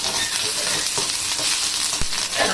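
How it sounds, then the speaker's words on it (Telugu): Ginger garlic paste sizzling and frying in a pan for a stuffed brinjal curry, a loud, steady crackling hiss close up, with faint stirring scrapes and no voices. "బ్రౌన్ కలర్ వచ్చేదాకా వేయించుకొని అల్లం వెల్లుల్లి పేస్ట్ అండి"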